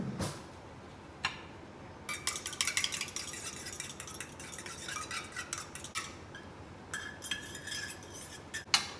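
A fork beats two eggs in a half cup, making quick, close clinking and tapping in rapid bursts that stop and start, with a few separate clinks between them.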